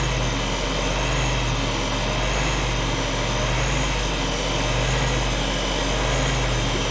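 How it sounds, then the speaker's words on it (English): An old teleprinter motor runs with a loud, continuous electric hum and whine, its pitch and level pulsing slightly as it hunts, with no voices over it. "the motor's hunting quite a bit."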